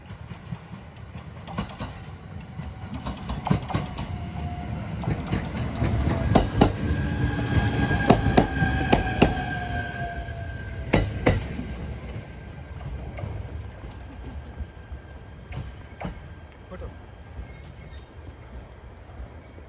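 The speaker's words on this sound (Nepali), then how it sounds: "एकदम छोटो ट्रेन गएको" A short train runs past a small rural station in Japan, a mid-distance rumble with rhythmic clickety-clack wheel beats that build to a peak, then fade while faint squeals linger.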